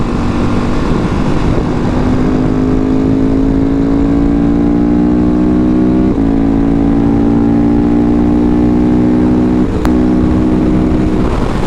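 2019 KTM 690 SMCR motorcycle on the road, a loud close engine note rising steadily in pitch through the gears with short dips at shifts, constant wind noise underneath, no talking.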